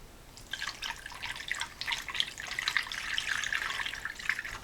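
Coolant mixed with distilled water poured from a measuring cup into a Jeep Cherokee XJ during engine reassembly, a steady splashing trickle with bright dripping that runs close and unbroken for several seconds, no talking.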